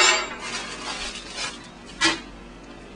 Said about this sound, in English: and we're going to stir this around.